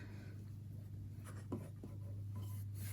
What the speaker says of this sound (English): I just trace with the mechanical pencil so that I can see the line